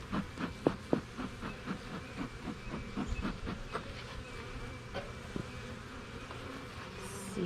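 A swarm of honeybees buzzes densely around old honeycomb as they fill it in. The buzzing is steady and close, with no voices.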